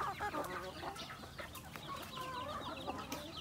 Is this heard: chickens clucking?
yes